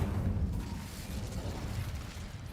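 A fire spell, Incendio, cast in the fantasy video game Mystic Project: a steady low roaring rumble with a crackling burst, sustained and fairly loud throughout.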